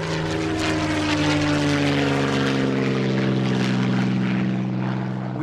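The Silver Spitfire, a propeller aircraft, flies at Goodwood with a loud, continuous engine drone whose harmonic tones shift slightly as it passes close by.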